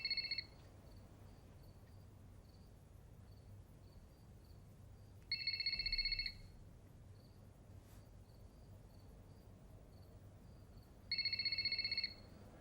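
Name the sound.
telephone ringing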